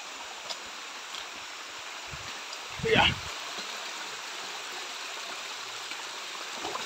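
Small jungle stream with two tributaries flowing steadily as a soft, constant background wash, with a brief louder splash or movement near the middle.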